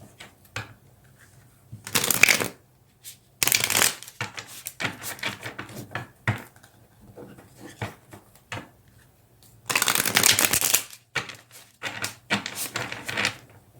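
Tarot cards shuffled by hand in a quiet room, several bursts of crisp riffling and bridging with short pauses between, close and fairly loud, with no talking.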